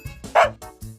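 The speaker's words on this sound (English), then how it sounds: "A dog makes a woof sound." A dog barks in a few short, close woofs, spaced unevenly within a second, with one louder, sharper bark standing out.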